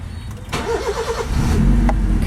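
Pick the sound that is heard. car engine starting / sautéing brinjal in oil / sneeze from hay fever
car engine starting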